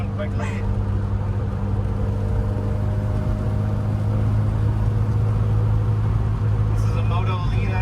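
A 1959 Austin Healey Sprite on new tires drives along, its engine a steady low hum with a constant drone throughout. Someone talks over it the whole time.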